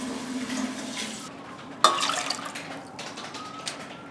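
Water pours into a pot of red lentils with a brief splashing rush and gurgle, then a trickle that tapers off, close and fairly clear without speech.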